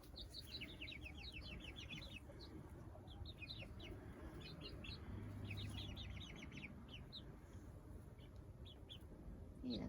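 Spring garden chickens cluck continuously in a new chicken run, with bursts of higher chirping calls and occasional wing flaps over steady low rumble, fairly close and moderately loud.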